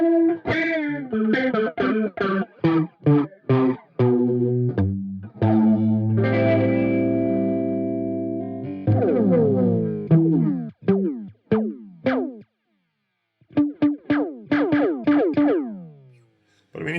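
Electric guitar played through an Earthquaker Devices Pyramids flanger pedal, loud plucked notes and sustained chords with a sweeping, swirling flange character, ending in sparse picked notes separated by short pauses.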